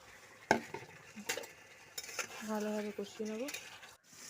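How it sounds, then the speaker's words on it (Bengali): Chicken for a dhania chicken is sautéed in a pan, heard as a few spatula scrapes and clinks over a low sizzle, with a brief tonal whine in the middle. "চিকেনটা দিয়ে ভালোভাবে কষিয়ে নেবো।"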